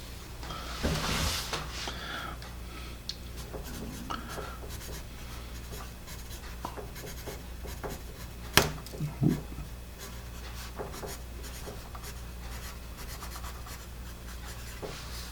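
A Blackwing Volumes 651 pencil, freshly sharpened, writing on paper with quiet, continuous scratchy strokes and a few sharper taps, close and fairly soft.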